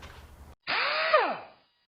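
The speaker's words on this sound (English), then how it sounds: "So we'll go ahead and start removing these bolts here." A power tool spins out radiator bracket bolts on a 2006 Honda Ridgeline, a loud whirring run of about a second with falling pitch, preceded by a brief burst of mechanical noise and a short pause.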